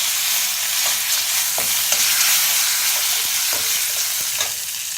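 Curry leaves crackling in hot oil for lemon rice, a dense, bright sizzle that stays loud and even throughout, dotted with small pops and light stirring clicks, heard close with no speech.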